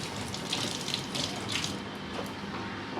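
Tap water runs into a kitchen sink while hands are rinsed under it, a steady close splashing stream with small bursts of spatter as the hands move through the flow.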